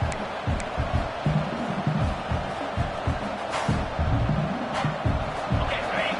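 Stadium crowd in a college football video game, Fresno State at ECU, a dense continuous roar with scattered rises of cheering, steady and fairly distant throughout.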